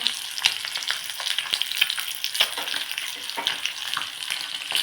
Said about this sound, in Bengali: সেই মাছটাকে এখন আমি তেলে ভাজছি